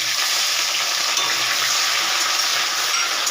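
Tomato and onion go into hot oil with whole chillies, bay leaf and five-spice seasoning for a banana-flower and prawn curry, making a loud, continuous hissing sizzle up close.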